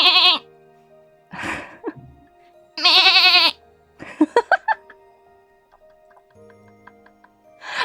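A human voice imitates a goat bleating in several loud, wavering bursts. Short clicking and chirping noises come between the bleats, with quiet gaps in between.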